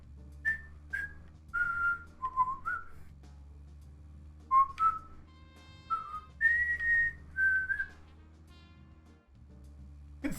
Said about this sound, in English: Yep, whistling theme.